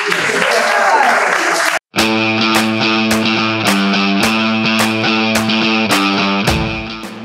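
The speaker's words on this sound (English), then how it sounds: "Hey, a round of applause for all of us." A talk-show studio audience bursts into loud, steady applause for under two seconds, then it cuts off abruptly and a rhythmic musical theme with bright percussive hits takes over.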